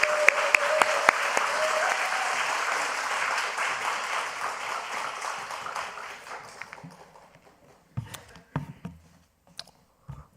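Congregation applauding in a church to welcome a young speaker up for a testimony at a new-members graduation and baptism service, a dense loud clapping that thins out and fades after about seven seconds, leaving a few scattered claps.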